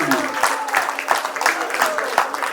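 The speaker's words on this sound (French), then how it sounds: "on peut encore une fois les applaudir" Audience applause at the 70th anniversary celebration of the Comité Louis Braille, a steady, rhythmic group clapping heard close up, with voices talking over it.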